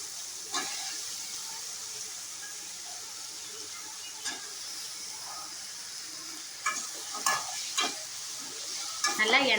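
Chopped eggplant frying in oil with chilli powder, a steady bright sizzle and hiss with occasional stirring scrapes and clinks growing more frequent toward the end, no voices.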